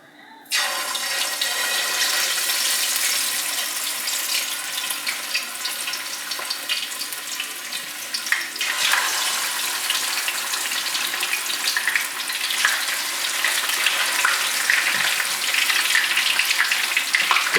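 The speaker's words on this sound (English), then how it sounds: "So you gotta be very careful when you're frying your fish." Fish sizzles and crackles in hot oil for Nigerian red stew, a loud, continuous fry that flares up sharply after a quiet start and stays busy throughout.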